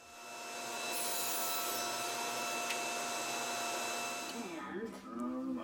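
A power saw cuts through wooden balusters in a woodshop, a steady whining buzz that swells in, holds loud for several seconds, then winds down as a voice briefly speaks near the end.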